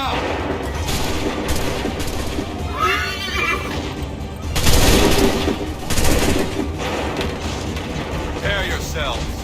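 A video-game musket volley fired on command sounds as two heavy, crackling bursts of massed shots a second apart. Horses whinny before and after, and voices talk throughout.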